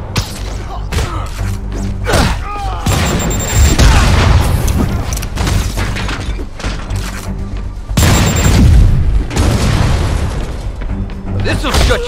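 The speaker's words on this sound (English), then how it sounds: "Uh-oh. Rockets! Take cover!" Repeated heavy rocket explosions and booming blasts in the Spider-Man PS4 video game, loud and close, with rolling bursts and thuds and a voice speaking over the barrage.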